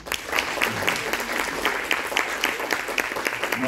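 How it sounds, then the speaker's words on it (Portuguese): An audience at a festival claps for guests being introduced, a steady patter of applause from a moderately sized crowd that keeps going throughout without a break. "uma salva de palmas, por favor"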